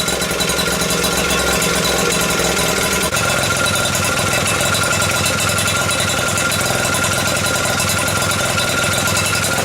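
An Atco lawn mower's two-stroke engine ticks over steadily at idle after repair, a dense, continuous mechanical rattle close by with no talking.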